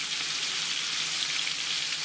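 Crucian carp frying in a pan with mayonnaise gives a steady, loud, bright sizzle with fine crackling and no talk over it.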